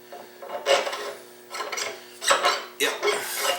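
A metal pulley slides onto a freshly cleaned shaft of a Powermatic 27 shaper spindle for a dry fit, with several close, rasping metal-on-metal scrapes coming in bursts separated by short pauses.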